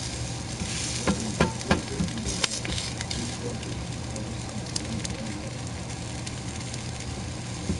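Eggs frying in a pan with mayo spread on both sides give a steady close sizzle, with a few sharper crackles and scraping clatters early on and no talk over it.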